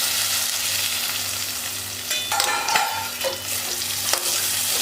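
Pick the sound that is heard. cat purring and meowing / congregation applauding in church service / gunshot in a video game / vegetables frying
vegetables frying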